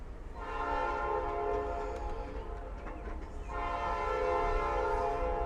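A Lehigh Gorge Scenic Railway train departing Jim Thorpe Station, heard from inside a caboose: a loud sustained horn blast, a brief break with clanking, then a second long blast over low rumbling.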